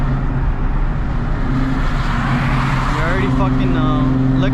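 A Dodge Challenger droning steadily at around 60 mph, a loud constant engine and road rumble heard from inside the cabin, with someone talking over it throughout.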